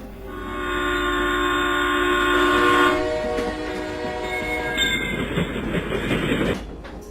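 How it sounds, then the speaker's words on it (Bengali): A train horn blares in a long sustained blast over the rumble of a moving train, then wheels clatter and squeal as the train rolls on. "ট্রেন ধীরে ধীরে ঘটকপুর স্টেশনে পৌঁছয়"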